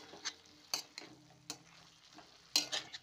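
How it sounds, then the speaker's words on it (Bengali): Karai shak greens with spices fried over low to medium flame, with several sharp spatula scrapes and stirring clatters over a quiet background sizzle. "আবারও 5 মিনিট এইরকম লো থেকে মিডিয়াম ফ্লেমে হালকাভাবে নাড়াচাড়া করবো"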